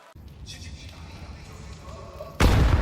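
A grenade detonates in Counter-Strike 2 during a MOUZ vs Vitality semi-final match at IEM Chengdu 2025. A single loud, sharp blast bursts out near the end after quieter game noise, with commentators talking over it.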